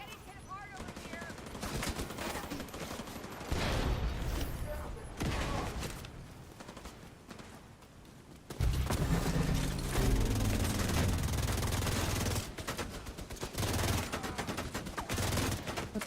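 Turret in The Division 2 firing automatic bursts, loud rattling gunfire that swells in waves, with heavier sustained fire in the second half amid game sounds and occasional voices.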